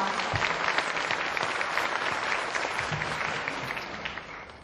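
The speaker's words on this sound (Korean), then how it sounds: "모두 박수로 환영해 주시기 바랍니다." Audience applause at the opening of a 2014 national policy meeting of women's subcommittee chairs, a steady, dense clapping from a large crowd that holds for several seconds and eases slightly toward the end.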